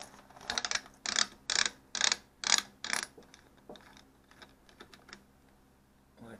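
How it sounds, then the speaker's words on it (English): Nut twisted off the end of a shotgun's magazine tube, about six quick ratcheting metal clicks close by, followed by fainter scraping and clicks. "take off the nut here, and that just simply twists off"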